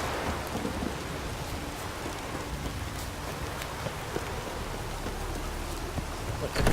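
Heavy rain hisses steadily across the landscape in The Witcher 3: Wild Hunt, a dense, even wash of falling water with faint thunder-like rumbles beneath, holding constant throughout.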